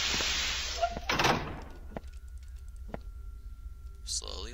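A heavy door sliding open inside the SCP video game, a loud rushing mechanical whoosh followed by sharp clicks and a faint hum, with a player's voice talking over it.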